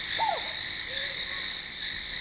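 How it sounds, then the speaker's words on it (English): Mountain scops owl giving a short whistled note, then a fainter one, over a loud continuous insect drone in the background. "This lovely creature is a mountain Scops owl."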